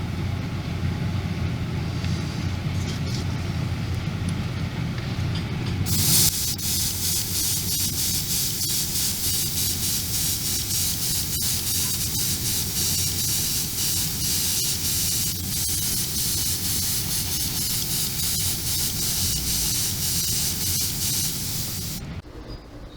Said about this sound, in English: now we can go over and paint the whole anchor winch with a satin gloss varnish